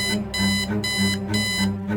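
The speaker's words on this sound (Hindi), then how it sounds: "अलार्म बजता है।" An alarm rings at an intelligence headquarters in Delhi in an animated spy story. It gives loud, steady electronic pulses in a regular on-off rhythm, each about half a second long, with no voices.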